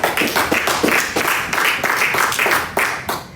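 A church congregation claps together in a steady, fast rhythm, many hands close and loud, sustained for several seconds.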